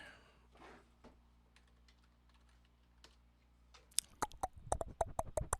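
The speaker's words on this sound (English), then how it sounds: "Let's type in E minor." Fingers type on a computer keyboard close by, first a few scattered soft taps, then a quick burst of crisp, loud key clicks near the end.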